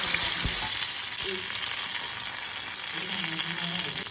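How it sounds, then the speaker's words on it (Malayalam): Mustard seeds, green chili and curry leaves frying in hot coconut oil, a dense steady sizzle up close with a few popping crackles and faint stirring scrapes. "വെളിച്ചെണ്ണ ചൂടാവട്ടെ. കടുക്, പച്ചമുളക്,"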